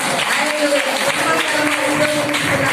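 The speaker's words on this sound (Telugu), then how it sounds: "చప్పట్లు కొట్టి దేవుని స్తుతిద్దామా" A congregation claps together in praise during a church sermon, a steady dense patter of many hands that runs throughout with voices mixed in.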